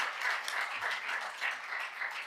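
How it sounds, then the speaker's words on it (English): Faint, distant applause from a public health conference audience in Africa, soft scattered clapping rising and falling gently for a couple of seconds. "another round of applause for Dr. Therese Reyes"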